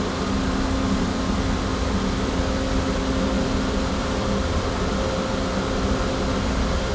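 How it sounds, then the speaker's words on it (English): A new corn grain dryer with its fan and burners running makes a constant, even roar with a steady hum and no breaks or speech. "right there's enough corn in the top of the dryer now that fan started up again and the burners are about to kick on."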